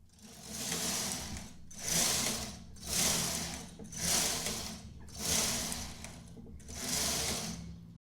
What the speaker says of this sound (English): I'm able to actually knit more rows when I have the holding position. So here I could knit 6 rows.